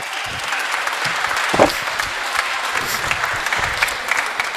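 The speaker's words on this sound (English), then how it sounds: "Can we give him a round of applause?" An audience applauds after a vocal ensemble concert at a symposium, with a broad steady roar of clapping, faint voices mixed underneath and a brief louder burst partway through.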